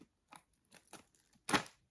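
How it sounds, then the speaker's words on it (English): Scissors cutting open a small Tic Tac kit package, a few separate quiet snips and crunches ending in one louder close cut. "let me grab my scissors"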